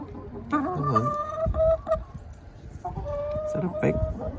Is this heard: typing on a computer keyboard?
no